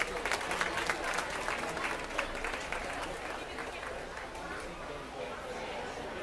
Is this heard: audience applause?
yes